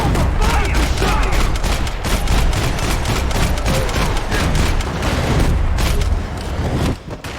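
Dense, continuous gunfire from a Max Payne 3 police-level firefight, loud, near bursts layered with booms and rattling automatic fire throughout, easing slightly near the end, with shouted combat voices mixed underneath.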